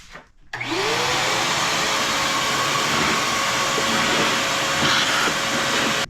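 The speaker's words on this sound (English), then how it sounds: "The vacuum is not doing anything" A vacuum cleaner starts up and runs loudly and steadily, cleaning the dirty battery tray area of a car at night, with a spin-up whine followed by a constant roar.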